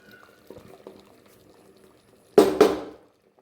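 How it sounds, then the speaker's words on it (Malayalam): A pot of sambar simmers with faint, low bubbling, then two loud, quick bursts of hissing clatter close by near the end. "നമ്മുടെ സാമ്പാർ ഇവിടെ തിളച്ചിട്ടുണ്ട്"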